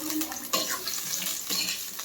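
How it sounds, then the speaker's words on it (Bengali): Potatoes fry in a pan on a home stove, giving a soft, continuous sizzle with a few faint scraping or stirring sounds, close and fairly quiet. "এখন বসিয়ে দিলাম এখানটাতে আলু ভাজতে"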